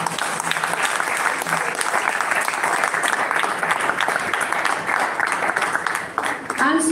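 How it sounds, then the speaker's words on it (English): An audience at a hospital fundraising event gives a sustained round of applause, thick and loud throughout, with faint talk underneath and a brief dip before it rises again at the end. "a big round of applause"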